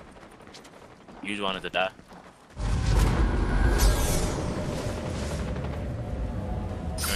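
Dense Fortnite gunfire in a firefight, a sustained wash of shots that swells loudly after a brief quiet stretch and keeps rolling under a voice.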